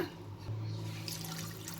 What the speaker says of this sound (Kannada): ನೀರು ಆ್ಯಡ್ ಮಾಡ್ತಿದ್ದೀನಿ